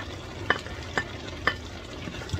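Dried shrimp shutki frying in a pan for a shira dish, a steady close sizzle broken by three sharp utensil scrapes against the pan at even intervals.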